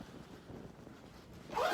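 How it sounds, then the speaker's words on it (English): An old toiletry bag is zipped shut: a short, soft zipper rasp close to the mic that builds into a louder pull at the end, with no speech. "Zip it up."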